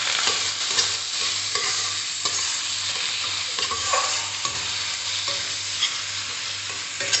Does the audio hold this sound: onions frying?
yes